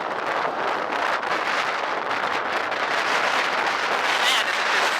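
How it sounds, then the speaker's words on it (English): Steady, loud wind buffeting and roaring across the microphone from a moving Polaris RZR XP Dynamix Turbo side-by-side heading into a headwind over whoops, continuous broadband rush with no clear pauses. "we're going into the wind"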